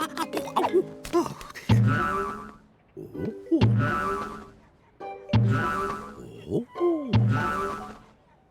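Cartoon boings from someone bouncing on a trampoline in an animated Mr Bean comedy: three springy, pitch-sliding bounces land at a regular rhythm, close and clear, with short grunts and other cartoon noises between them.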